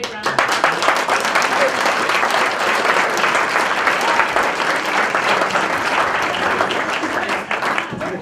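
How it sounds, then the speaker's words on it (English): Audience at a tenth-grade school production of the play Scapin bursts into sustained applause, dense loud clapping filling the room steadily for several seconds with no break. "Big round of"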